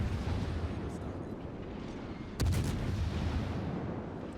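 Guns of the Minotaur warship in a naval video game fire toward an enemy ship, a deep rumbling barrage under steady low battle noise, with one sharp loud report standing out midway.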